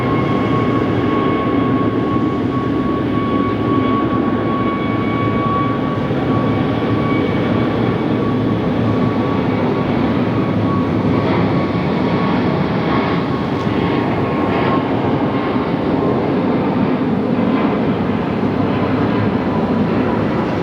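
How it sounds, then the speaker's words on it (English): SkyTrain people mover at Phoenix Sky Harbor airport passing beneath, a steady broadband rumble with a faint tonal whine, continuous and moderately loud for about twenty seconds with no talking. "That was the sound of the SkyTrain passing beneath me."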